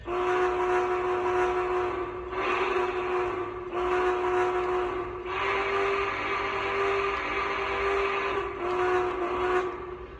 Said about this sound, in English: So here's the whistle for it.